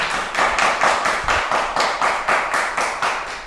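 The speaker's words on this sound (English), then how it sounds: "Let's clap for that." A group of children claps together in a slow, steady rhythm of about a dozen evenly spaced claps, close and clear, with no talking.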